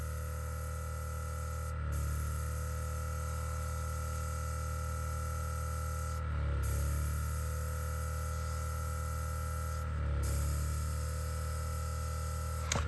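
An airbrush fed by a compressor set to 15 PSI, painting a scale model, gives a steady airy hiss over a constant compressor hum, with three brief dips where the spray stops and restarts.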